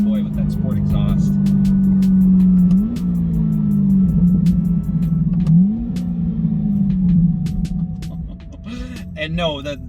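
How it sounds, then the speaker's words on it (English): C8 Corvette with a naturally aspirated 6.2-liter V8 and sport exhaust, a loud, close, deep exhaust burble that rises in revs a few times, settling back each time, with short clicks and a brief voice near the end. "Oh boy, with that sport exhaust."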